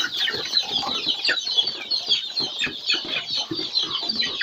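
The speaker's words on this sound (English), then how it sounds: "But these are the Kenyeji chickens." Kenyeji free-range chickens on a farm clucking and cackling close by, a busy flock of overlapping chatter with occasional soft wing flaps.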